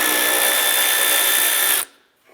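A power tool whirs steadily and loud while removing a 10mm bolt on a 2011-2019 Ford Fiesta, then cuts off abruptly, leaving near silence with a faint handling sound.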